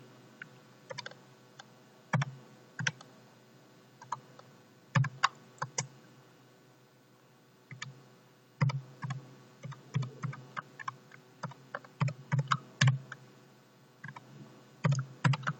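Keyboard keys are tapped in irregular bursts and single clicks as a postal code is entered on a computer keyboard, close and fairly quiet, with no talking.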